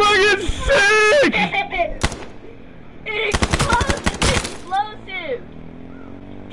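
Rapid automatic gunfire in the H1Z1 video game, loud bursts of shots over excited shouting players, with a long volley near the middle.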